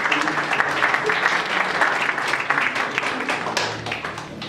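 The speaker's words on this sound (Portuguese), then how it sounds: "Então, um aplauso para vocês mesmos aí." A church congregation applauding, steady dense clapping throughout, loud and close, with a voice faintly heard under it.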